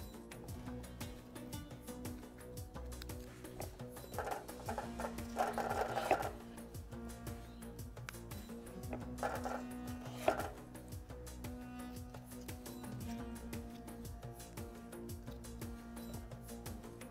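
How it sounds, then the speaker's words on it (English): A knife cuts tomatoes in half on a board for a Moroccan chicken tagine, with soft slicing and board contact in a few bursts, faint beneath steady background music. "Cut them in half."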